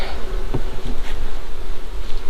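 A dense, steady buzzing of many honey bees around a hive fills the air up close, with occasional soft bumps and rustles.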